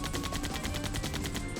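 Rapid automatic cannon fire from a hovercraft in the video game Sonic the Hedgehog (2006), a steady burst of repeated shots lasting under two seconds with no talk.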